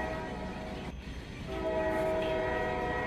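A train in the Rec Room VR game rumbles along steadily, its low engine drone and horn-like tones swelling louder partway through and holding as a continuous mechanical roar.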